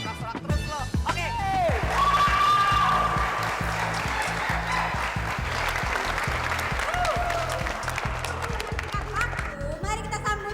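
An audience at an Indonesian TV show contest cheers and applauds, a steady wash of clapping and crowd noise lasting throughout, with a voice speaking over it near the start and end.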